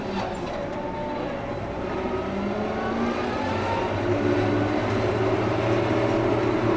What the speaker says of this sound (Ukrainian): І трактор йде чітко по лінії.